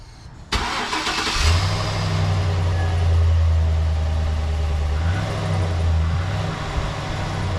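A car engine with its muffler removed cranks and catches, then settles into a loud, rumbling idle with a couple of revs, heard close and alone.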